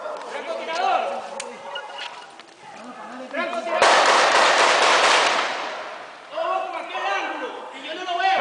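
Heavy gunfire erupts in a Venezuelan prison, with sharp shots and a sustained loud burst of rattling fire midway, while people shout and talk anxiously around it.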